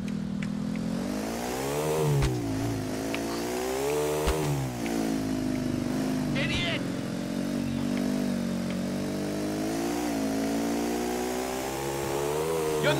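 A motorcycle engine revs continuously in Grand Theft Auto IV, a loud steady drone with rising and falling pitch as the throttle changes, accompanied by faint game effects throughout.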